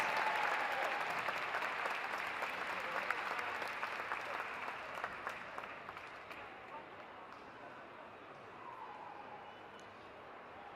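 Sustained applause and cheering from a crowd at an indoor dog agility show, a steady broad wash of clapping held for about eleven seconds and easing slightly toward the end.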